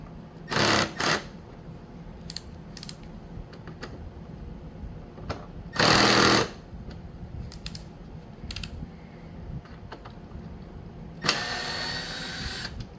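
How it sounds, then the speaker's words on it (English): A power driver whirs in short bursts to back screws out of the front panel of a 2003 Honda Elite 80 scooter, with three loud, close runs separated by small clicks and handling noises. "Let's pop these 3 screws off."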